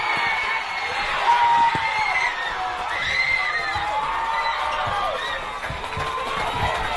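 A football crowd at KGV roars and cheers at the final whistle of a Tasmanian NPL match between Glenorchy Knights and Launceston City. Sustained shouting and whoops come from a distance, with scattered claps and thuds and a steady, dense wash of noise.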